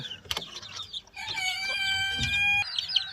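Two-week-old fighting-cock breed (Peruvian/peruvidai) chicks chirping in a series of high, thin peeps, one sustained run of overlapping cheeps mid-clip, close and fairly loud with no talking.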